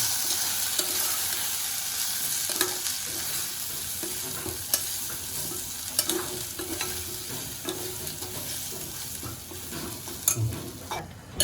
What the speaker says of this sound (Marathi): आणि गरम मसाला जरा हे टाकून मस्त परतून घेऊ त्याला.